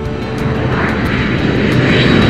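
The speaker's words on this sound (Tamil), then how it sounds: "நான் ஒரு விமானத்தை பார்க்கிறேன்." A fixed-wing airplane drones overhead, a broad steady engine roar with a faint whine running through it, loud and continuous with no voices.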